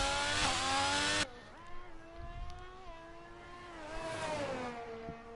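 A race car engine on an outlap in a racing video game, a droning tone that rises and falls as the car weaves to warm its tyres, following a brief louder burst at the start.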